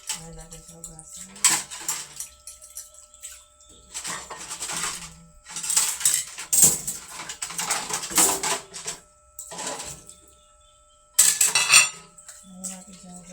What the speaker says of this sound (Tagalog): Hugasan guys. Ayan natin sa hugasan.